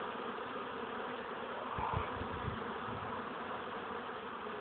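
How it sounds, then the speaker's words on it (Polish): Continuous low buzzing of honey bees nearby, fairly quiet, with a few brief thumps partway through. "Pszczoła jest widać wspaniała"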